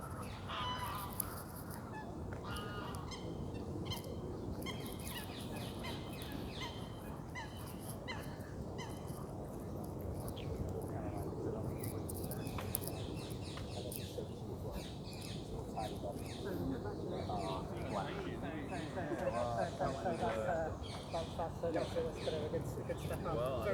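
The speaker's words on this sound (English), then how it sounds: "geese" Geese honk and squabble in repeated harsh calls in a London park near Hyde Park Corner, fairly close, with someone speaking quietly over them.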